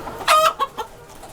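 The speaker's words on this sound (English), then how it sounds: "Well, they are massive cockerels, aren't they?" Large cockerels clucking loudly up close, a burst of harsh squawking calls followed by a few shorter, softer clucks.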